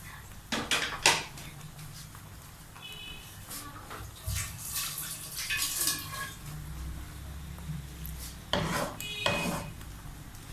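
Chicken being stirred into chow mein in a pan, with metallic scraping and clinks of a utensil against the pan over a low sizzle, irregular and close.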